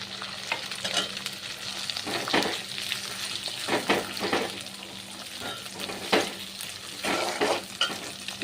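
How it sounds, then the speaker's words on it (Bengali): Garlic paste, ginger paste and onion fry in hot oil for egg fried rice, a close sizzle broken by repeated scraping stirs of a spoon against the pan at an irregular rhythm. "এখন আমি দিয়ে দেবো রসুন বাটা, আদা বাটা, পেঁয়াজ দিয়ে দেবো"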